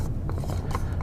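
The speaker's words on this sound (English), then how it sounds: "and unscrew it and remove it from the instrument" A metal pump can on an LI-710 instrument is twisted loose by hand, giving a brief run of soft scraping, clicking thread sounds, faint and close.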